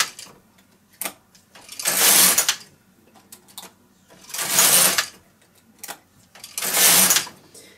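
A knitting machine carriage is pushed across the needle bed for slipper rows, giving three loud broadband whooshing passes spaced about two and a half seconds apart, with small clicks and knocks in between.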